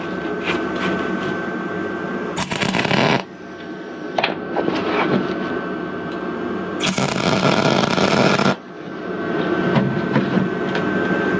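Stick welding on new hand rails and cleats, with two loud bursts of broadband arc crackle standing out over a steady hum of workshop machinery, no talk.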